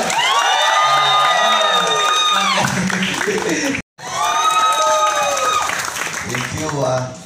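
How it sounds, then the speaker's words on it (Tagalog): A crowd claps and cheers loudly, with whoops and shouts rising over the applause, briefly cut off midway before resuming. "Palakpakan naman natin, may kasamang hiyawan."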